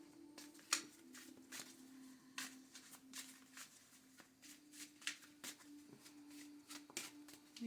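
Oracle card deck, Visions in the Liminal Space, being shuffled by hand: soft repeated riffling and card taps in an irregular patter, quiet and close, with a faint steady hum underneath.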